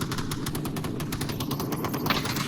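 Rapid automatic gunfire rattles continuously in the VR shooter Onward during a competitive match, a dense stream of close, sharp bursts with no talk over it.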